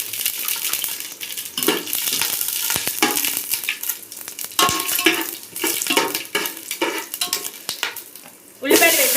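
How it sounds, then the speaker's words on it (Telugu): Whole spices hit hot ghee and oil in a pan, crackling and sizzling loudly while a spoon stirs and scrapes the metal in repeated strokes, with a sharp clatter near the end. "అలాగే కొంచెం ఆయిల్ పోసుకుంటున్నా. హీట్ ఎక్కిపోయింది. మసాలా దినుసులన్నీ వేసేసుకుంటున్నా."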